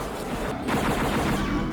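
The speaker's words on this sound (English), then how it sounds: "He's firing while on one of the rides?" Rapid movie gunfire from a 1997 action film, a dense continuous burst of shots under a busy soundtrack mix, steady and loud throughout.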